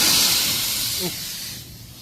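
Nitrogen pressure blowing through the lines of an air conditioner whose old compressor burned out, a loud continuous hiss that fades slightly toward the end, with a brief voice partway through.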